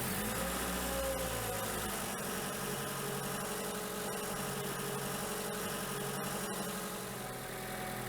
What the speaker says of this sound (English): what we'll do is we'll start the engine up.